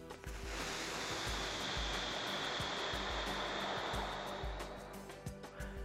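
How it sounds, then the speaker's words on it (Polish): A long, steady rush of breath blown out through the mouth, a broad airy hiss lasting several seconds, close and fairly loud. "zrób długi wydech przez usta"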